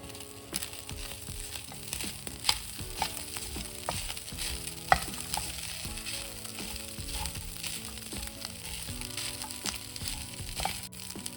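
Spicy Kerala beef fry, seasoned with garam masala, sizzles steadily in a steel pan while a spoon stirs it, with scraping clinks and scattered bumps over a continuous close frying hiss.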